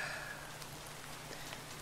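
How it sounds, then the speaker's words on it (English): Steady rain in the video game FTB Legend of the Eyes patters across a surface, a soft continuous hiss with scattered drops, with a low hum underneath. "Oh god, it's raining too now."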